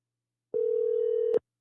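A telephone call rings out unanswered: one steady ringback tone lasts just under a second, clean and alone, then cuts off into silence.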